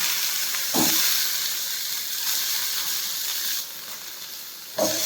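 Peanuts and tomatoes fry in hot oil for a chutney, giving a loud, steady close sizzle with two short bursts of stirring or clatter from the pan.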